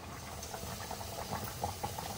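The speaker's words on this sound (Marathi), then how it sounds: "बघा अजून 3 मिनिटं आपलं रस्सेवाला चिकन उकळलेलं आहे." Chicken curry in a thin rassa gravy simmers in a covered pan over a medium gas flame, giving a faint, steady bubbling with no voices.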